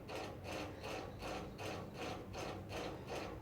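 Betel leaf paste is stirred and sautéed in a pan for a modak filling. A utensil scrapes in a steady rhythm of about seven even strokes, quiet and close, with no voices.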